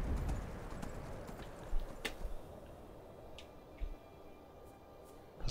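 Horse hooves clip-clopping steadily at a gallop in the video game Skyrim Special Edition, fairly faint, with a few sharper knocks and clicks scattered over a low rumbling background.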